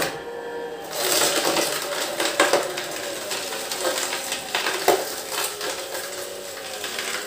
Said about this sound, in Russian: Как видите, она работает не громко, но слышно хруст самой моркови.